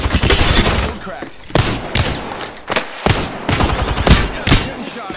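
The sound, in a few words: gunfire in a video game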